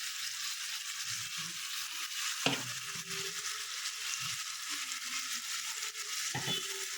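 Turmeric, cumin and coriander sizzle in a pan with a ginger-garlic and tomato paste, a steady bright hiss of frying throughout with a couple of louder spatters or stirring knocks.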